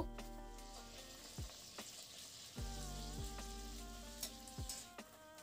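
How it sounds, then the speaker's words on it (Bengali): Luchi, puffy Bengali fried bread, sizzles in hot oil with a steady crackling hiss, broken by a few sharp splashy bursts as the dough is turned or moved. "তো সব কটা লুচি এভাবেই ভেজে নেব"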